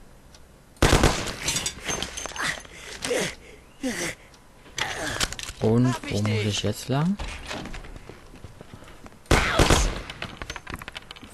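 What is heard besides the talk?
gunshots in a video game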